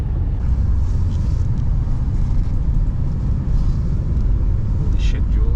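1988 Cadillac Brougham with a swapped Olds Rocket 350 V8, 3.73 gears and a shift kit, driving along with a loud steady low rumble heard from inside the car.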